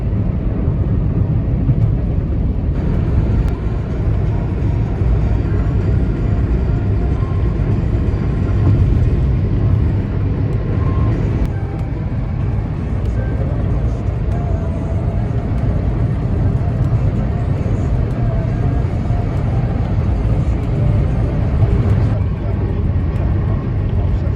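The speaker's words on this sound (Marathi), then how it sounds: "ऐंशीच्या स्पीडला गाडी चालवायची असते ऐंशीच्या स्पीडला गाडी चालवते बघा" A steady, loud engine and road roar fills the cabin of a car cruising at about 80 km/h through the Kamshet tunnel on the Mumbai–Pune Expressway, unbroken throughout.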